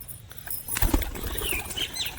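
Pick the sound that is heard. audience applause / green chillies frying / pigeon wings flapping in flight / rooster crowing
pigeon wings flapping in flight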